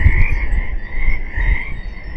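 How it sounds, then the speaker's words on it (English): Frogs croaking at a pond outdoors, a steady overlapping chorus of calls heard alone without talk, moderately loud and continuous throughout. "Do you hear these frogs?"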